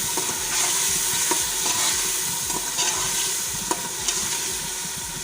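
Potatoes sizzle in a hot pressure cooker while a utensil scrapes and stirs in a loose, repeating rhythm, close and moderately loud.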